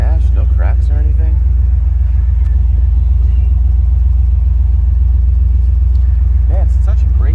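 A 1999 Camaro SS with an aftermarket cam and Flowmaster exhaust idles with a loud, deep, lumpy rumble that stays steady throughout while people talk over it.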